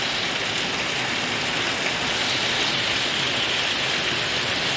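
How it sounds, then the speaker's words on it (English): Steady, heavy rain pours down in a dense, continuous hiss outdoors, with no voices and no break in the downpour. "This is a good rain."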